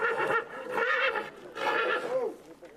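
A heavy horse descended from medieval battle horses, bred for show, neighs loudly and close by in two long quavering whinnies with a short pause between them.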